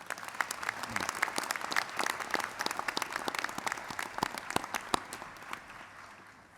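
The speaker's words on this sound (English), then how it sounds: "another round of applause for Florian, please" Dense, steady applause from a large audience at a Massey University graduation ceremony in Manawatū, with many overlapping claps sustained throughout and easing slightly toward the end.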